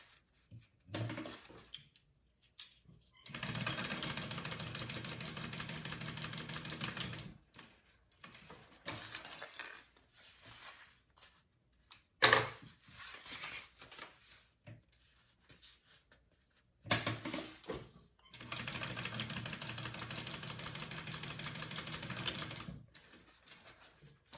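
A sewing machine top stitches a handbag in three long steady bursts of rapid, even needle chatter, separated by quiet pauses with light handling and clicks between runs.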